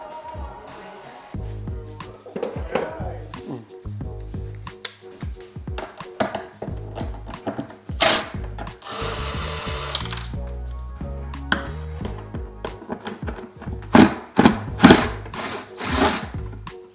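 A power drill whirs in short bursts against wood, with knocks and handling clatter between runs, close and fairly loud.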